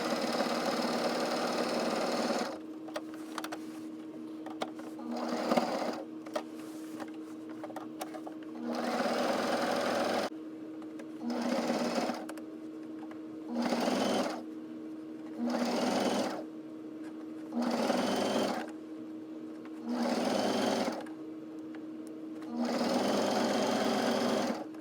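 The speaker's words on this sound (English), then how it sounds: "I'm just finishing the seams on the shoulders and then hemming all of the raw edges of the armholes and neckline" A sewing machine hems the raw edges of the armholes and neckline of a summer dress, running in repeated bursts of steady stitching separated by short pauses, close and clear with no talk.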